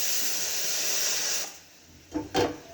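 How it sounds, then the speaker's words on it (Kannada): A kitchen pressure cooker vents steam in a loud, continuous hiss that cuts off abruptly, followed by two short sputtering bursts of steam. "ಒಂದು ನಿಮಿಷ ಕುಕ್ಕರ್ ಇಟ್ಟಿದೆ ಅದ್ರ ಸೌಂಡ್"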